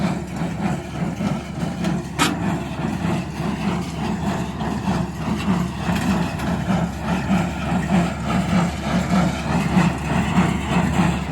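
A tractor engine runs steadily nearby with a deep, rumbling idle that holds constant throughout, plus one brief sharp click early on.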